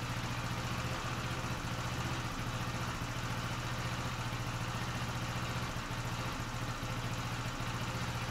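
A Honda scooter engine idles steadily with an uneven misfire caused by a carburettor needing adjustment, a continuous close mechanical drone with no voices.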